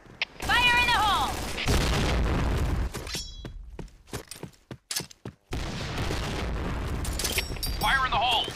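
Grenades explode in Point Blank, the game, as heavy booms and crackling blasts mixed with bursts of gunfire and sharp shots, with electronic game tones and brief quiet gaps between loud stretches.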